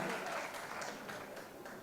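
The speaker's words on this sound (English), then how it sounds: "So a huge round of applause for Mahima again" Applause from an audience at a college event honoring a visiting guest, a steady broadband wash of clapping throughout, fairly distant and moderate in level, with faint voices mixed in.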